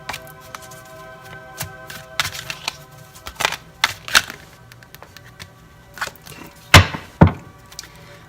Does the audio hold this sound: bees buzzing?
no